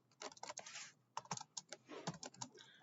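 Rapid clattering keystrokes on a computer keyboard while coding a Java-style bank app project, irregular bursts of clicks with short pauses, close and clear with no voice.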